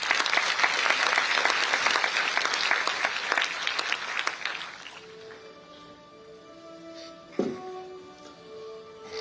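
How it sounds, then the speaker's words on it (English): Sustained applause from a university audience after a speech by a health minister, dense and steady for about five seconds before fading into quiet with a faint tonal hum and a brief knock. "Huge round of applause for this wonderful, inspirational and promising speech."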